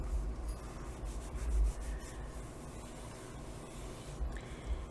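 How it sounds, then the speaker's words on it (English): A bone folder or similar tool rubs firmly along a crease in a single sheet of paper, giving a steady dry scraping that swells briefly in the middle, close and fairly quiet with no talking. "go ahead and burnish our fold"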